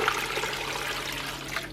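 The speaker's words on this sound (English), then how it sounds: "I'm gonna add 8 cups of water." Water pours steadily and close up into a pot of chicken and spices for soup, a continuous rushing splash with no pauses.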